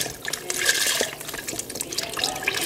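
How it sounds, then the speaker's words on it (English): Beef broth pours into a soup pot for stuffed pepper soup, a steady splashing, gurgling liquid stream close by that runs the whole time with slight surges. "I got another whole thing of broth, and I'm putting it in there."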